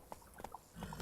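A few soft, irregular horse hoof clops in The Witcher 3: Wild Hunt in quick succession, fairly faint, followed by a low rumbling background swell.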